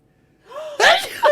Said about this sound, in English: that is a very ladylike sneeze